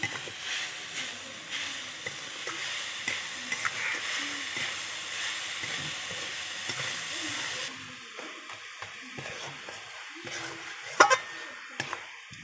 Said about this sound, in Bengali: সাদা সাদা করে ভাজছি অনেকক্ষণ বসে নাড়ছি